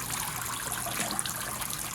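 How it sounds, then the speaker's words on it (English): Water trickles and splashes steadily from a pump-fed waterfall on a Step2 Tropical Rainforest toy water table, a close, continuous soft wash with no talk. "We ran a hose up here, so we got water coming out the top. So we have a perpetual waterfall."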